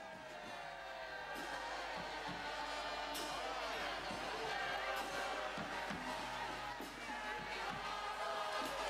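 Spectators along the Eleven Cities Tour route cheer and shout for passing riders, a steady crowd roar with scattered whoops and claps under continuous noise.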